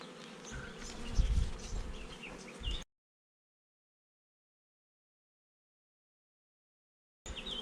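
Honeybees buzz around hive frames during queen rearing, a dense, close swarm hum with a louder swell in the middle, cut off abruptly by a stretch of total silence before resuming briefly.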